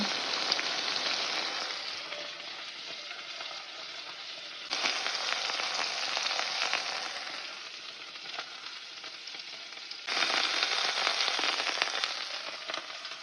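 Moose steak frying in a pan, a loud close sizzle and crackle of hot fat running throughout, rising in three surges as the meat is turned or pressed, with no voices.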